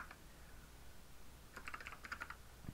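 Quiet, close computer keyboard typing: a few isolated keystrokes, a pause, then a quick burst of clicks near the end.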